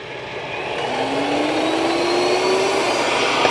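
A steady, loud whirring suction drone from an Ecovacs Deebot N20 Plus robot vacuum on high suction, cleaning carpet, climbing slightly in pitch as it runs, close by, with no voices.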